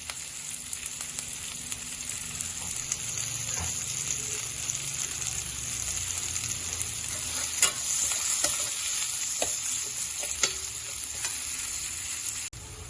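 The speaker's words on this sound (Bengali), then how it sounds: "আর কিছু কুচিয়ে রাখা পেঁয়াজ দিলাম। বেশ ভালো করে আমরা পেঁয়াজটাকে ভেজে নেব।" Chopped onions fry and get stirred in a pan for an egg and poppy-seed curry: a steady, close sizzle with scraping spoon strokes and occasional sharp clicks, no voices.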